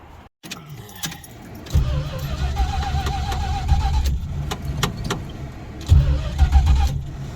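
A warm 1971 Plymouth Valiant engine reluctant to start: keys jingle, then the starter cranks with a wavering whine before the engine catches, cranking again and rumbling nearby, loud, with no talking.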